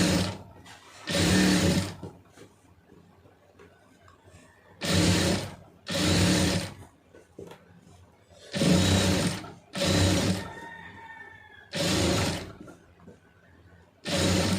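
Household sewing machine stitching a single fabric seam, running in several short bursts of about one to two seconds each, separated by quiet pauses, with no voices.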